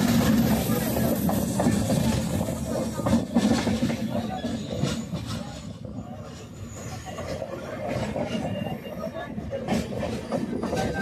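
The Harangul Express passenger train runs between Pune and Kurduwadi, its steady wheel rumble and clickety-clack loud and continuous from on board on a foggy, cold morning.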